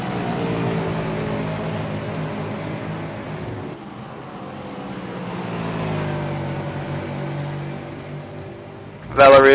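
Engine drone of V8 Supercars racing at Oulton Park in the ESRA series, a steady tonal roar rising and falling as cars pass, with a louder burst at the end.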